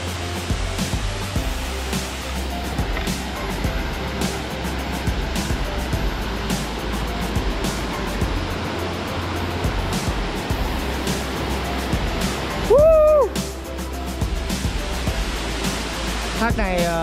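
Tạt Nàng waterfall in Vân Hồ, Sơn La, a natural forest cascade, roars as a continuous broadband wash of falling water, loud and close, with a brief tonal whistle-like sound partway through.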